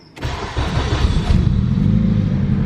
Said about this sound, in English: The car doesn't knock, it runs good